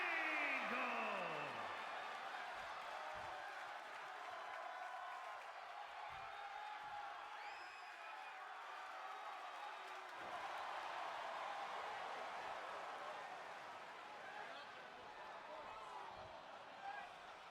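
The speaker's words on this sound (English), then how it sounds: "The crowd here tonight are ready for it." Arena crowd in the WWE 2K26 video game, ECW show with Kurt Angle entering, a steady loud roar and cheering throughout with a commentator's voice over it.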